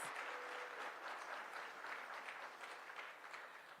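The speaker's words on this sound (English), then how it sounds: "So please give Diana and her team a big round of applause, and thank you from us" A press-conference crowd at the National Cherry Blossom Festival gives sustained, even applause for the festival team, a continuous wash of many hands clapping at moderate volume.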